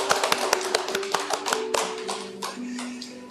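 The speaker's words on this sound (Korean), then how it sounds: "우리 박수로 환영하겠습니다." A church congregation at a Wednesday prayer meeting claps to welcome visiting pastors. The claps are scattered and uneven rather than a dense roar, with sustained tones holding underneath.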